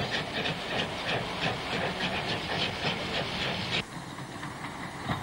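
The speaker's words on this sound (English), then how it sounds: "A train arrives from the cross-country line from Narrogin, hauled by both W and S class locos." A 1960s Western Australian steam train hauled by W and S class locomotives arrives, giving off a steady loud hiss of steam with rhythmic chuffing that abruptly drops off near the end, heard from nearby.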